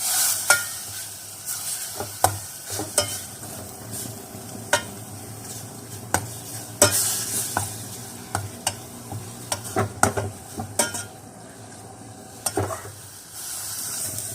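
Minced pork with a splash of water dry-roasts in a pan for homemade larb, the spatula scraping and clacking in frequent irregular strokes over a continuous close sizzle, with no voices.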